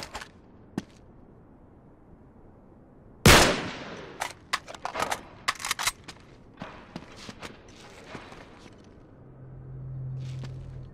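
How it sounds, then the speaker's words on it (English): A gunshot blasts a lock in the video game Uncharted 3: Drake's Deception, one sharp loud report followed by a burst of clattering impacts and scattered footsteps, then a low rumble near the end. "Back up, I'll shoot the lock."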